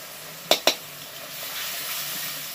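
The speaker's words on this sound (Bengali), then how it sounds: "এবার এইটা কষিয়ে নেবো পেঁয়াজ আর টমেটোর সাথে" Spices cooking with onion and tomato in a pan give a faint, steady sizzle, broken early by two quick sharp clinks of a utensil against the pan, with no talk.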